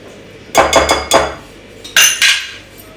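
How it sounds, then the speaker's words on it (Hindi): Spoon clinking and scraping against a bowl while spices are stirred into a chicken marinade for murgh kababi tikka, a few quick clattering bursts then two more, close and fairly loud with no talk. "आपने इसको अच्छी तरह से मिक्सअप कर लेना है।"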